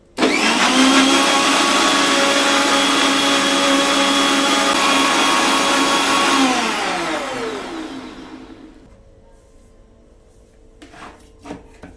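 Electric blender whirring loudly as it mixes a Herbalife protein shake, a steady high-pitched motor drone that holds for several seconds, then winds down and fades, followed by a few light clinks.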